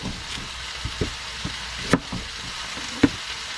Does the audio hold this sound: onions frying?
yes